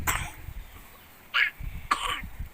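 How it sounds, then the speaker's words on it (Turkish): A few short, raspy coughs from a small bird, close by, separated by quiet pauses. "Öksürüyor, öksürüyor."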